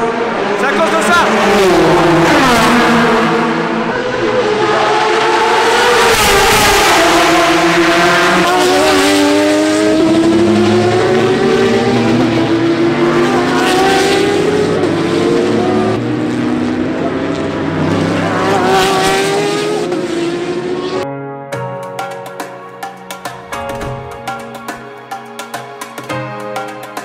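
Race cars at the 2018 24 Hours of Le Mans roar past, several loud engine passes rising and falling in pitch one after another, with crowd and voices underneath and a sharper, choppier stretch near the end.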